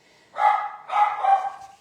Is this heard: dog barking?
yes